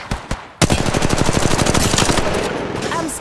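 Sustained automatic gunfire from the video game Apex Legends, loud and close, a rapid burst of evenly spaced shots that keeps up for several seconds after a couple of isolated single shots.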